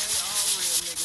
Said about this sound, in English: I'm just rotating it around this. I'm sanding it down so it gets down a little bit.